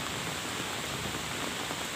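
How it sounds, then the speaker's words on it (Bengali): Steady rain falls after a long drought and intense heat, a dense, even hiss of drops that holds unbroken and fairly loud throughout, with no voices. "অবশেষে আল্লাহর অশেষ রহমতে বৃষ্টি বর্ষণ হলো"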